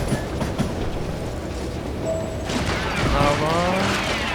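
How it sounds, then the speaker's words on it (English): A train rolls by in the Western shooter game Call of Juarez: Gunslinger, a rumbling mechanical clatter that swells louder toward the end, with thin whistling tones. "Train"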